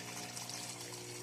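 Water flowing steadily into a gravel-filled aquaponics grow bed fitted with a bell siphon, a continuous close trickling and pouring wash with no speech.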